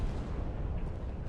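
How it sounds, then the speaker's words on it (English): A reenacted industrial vapor cloud ignition at a plant unit, set off by a backfiring truck, produces a continuous heavy roaring blast rumble, loud and dense throughout. "Powerful explosions swept through the area."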